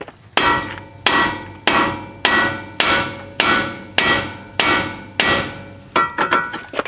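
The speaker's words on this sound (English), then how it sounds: "You probably have to take a hammer." A hammer strikes the tie rod on a 2004 Nissan Maxima in a series of about nine sharp, evenly spaced metallic blows, each ringing briefly, close and loud with no talk.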